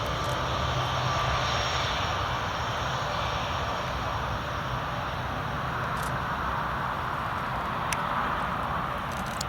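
A Boeing C-17 Globemaster military transport lands at Newcastle Airport, its jet engines producing a loud, steady roar that fills the whole stretch without letup, heard from nearby outdoors.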